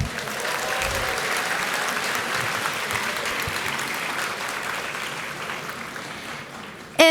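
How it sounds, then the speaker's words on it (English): Graduates at a De La Salle University commencement giving themselves a round of applause, a dense, steady roar of clapping from a large crowd that holds evenly before a voice cuts in at the very end. "And let's give ourselves a round of applause."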